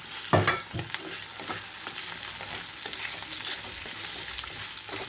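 Cut taro root pieces fry in oil with garlic, a dense continuous sizzle close up, opening with a sharp burst as they hit the pan and settling into an even crackle.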